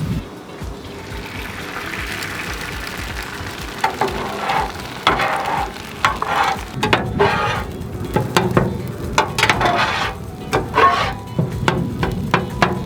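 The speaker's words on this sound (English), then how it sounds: "it is time to lay down our eggs." Eggs poured onto a hot Blackstone griddle beside chicken for fried rice, a quiet sizzle that swells into louder crackling, with metal spatula clanks and scraping that come in irregular bursts near the griddle.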